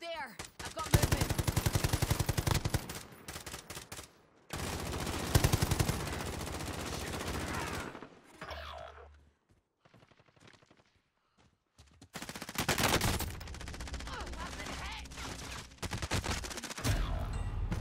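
Sustained bursts of automatic and rapid gunfire in Call of Duty Modern Warfare Warzone, loud and close, broken by a quiet stretch midway before heavy firing resumes, with occasional voices.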